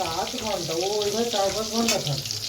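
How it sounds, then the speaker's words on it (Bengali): Brinjal slices frying in a pan at home give a continuous close sizzle and crackle under a person's steady talking throughout. "এই দেখো বন্ধুরা, আমি হচ্ছে এখন বেগুন ভাজা করছি"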